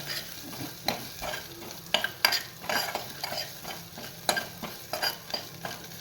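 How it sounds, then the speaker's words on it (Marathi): Crushed ginger and green chilli sizzle in hot ghee for a buttermilk kadhi tempering, with a steady fry under repeated sharp scrapes and clinks of a spoon stirring the pan, close up and without talk. "तुपावर याला परतवून घ्यायचं आहे छानपैकी"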